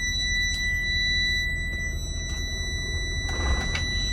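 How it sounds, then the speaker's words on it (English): A 2020 Tiffin Allegro RED 38KA motorhome's low air pressure warning buzzer drones on continuously, signalling too little air in the airbags, with a few faint clicks and a low rumble of an idling engine beneath it. "That sound is telling me there's not enough air in the airbags."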